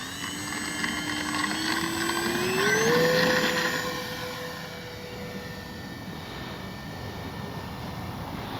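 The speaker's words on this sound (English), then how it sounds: "This time we're going to do a touch and go." A Kavan Bristell B23 RC airplane makes a touch and go, its electric motor whine rising in pitch as it passes nearest, then settling into a steady, slightly fainter drone as it climbs away.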